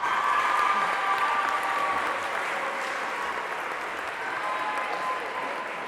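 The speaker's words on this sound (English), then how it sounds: "How about a round of applause for Nick Kondo?" Steady crowd applause and cheering fills a gym for a senior boys volleyball player on senior recognition night, held at an even level throughout with a faint distant quality.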